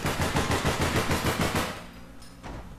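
Rapid automatic gunfire in APB Reloaded, a fast burst of about a dozen evenly spaced loud shots for over a second and a half, then a pause and a couple of fainter shots.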